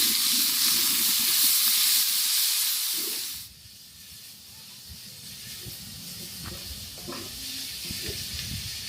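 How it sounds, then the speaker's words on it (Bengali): Chopped onions hit a hot pan and sizzle loudly in a broad hiss, then settle to a steadier fry as a spoon scrapes and stirs them in short, irregular strokes. "কেটে রাখা পেঁয়াজ কুচিগুলো ছেড়ে দিলাম এবং চামচ দিয়ে নেড়ে চেড়ে সেগুলো ভালোভাবে ভেজে নিচ্ছি"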